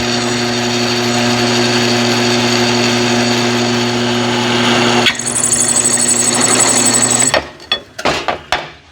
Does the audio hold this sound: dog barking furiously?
no